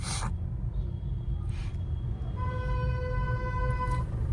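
A car horn pressed long during a driving lesson on a road with people walking at the left, a sustained tonal blare lasting a couple of seconds after shorter toots, over steady engine and road rumble.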